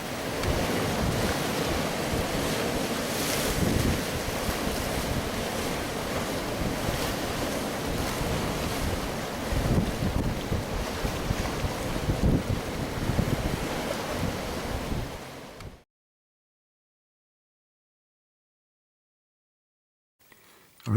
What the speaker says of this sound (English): amongst the tidal surge and crashing waves